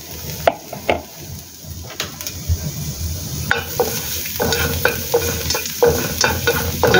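Garlic sautéing in a little oil in a preheated wok, a steady close sizzle with repeated scraping and stirring strokes that grow busier toward the end.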